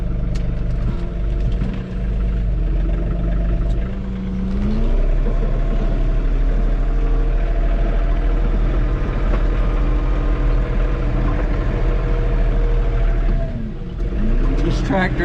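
A John Deere 3046R cab tractor engine runs loud and close in a logging setting, a steady diesel drone with rising and falling revs as the auto throttle changes, while a person talks over it.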